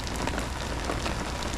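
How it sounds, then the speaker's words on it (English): Summer rain falls outside a window, a dense, even patter of drops on the surface and glass, steady and fairly close, with no voices. "Finally got some nice rain."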